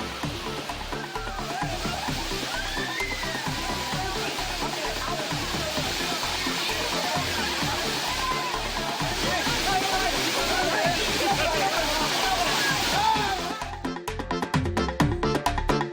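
Kumbakkarai waterfall pours in a dense, steady roar of falling and splashing water, loud and continuous with no pauses.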